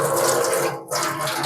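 Washing water poured off a bowl of rinsed plums, a steady close splashing gush that dips briefly in the middle before pouring on.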